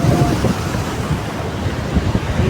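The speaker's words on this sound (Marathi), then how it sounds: "पाणी एवढ्या फास्टमध्ये येतं आहे ना" Fast-flowing river water rushes near Koyna bridge, a loud churning roar mixed with gusty wind buffeting the microphone, with no talking.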